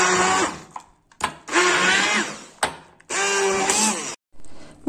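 A kitchen blender grinds a flourless, sugar-free cookie mixture into a smooth mass, running loud in three bursts with short pauses between them.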